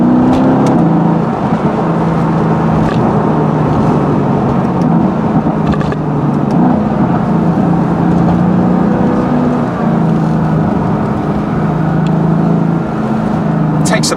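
A Mercedes AMG GT S sweeps through bends with a steady, loud engine drone and road roar from inside the cabin. The tone stays fairly even throughout, with someone talking over it.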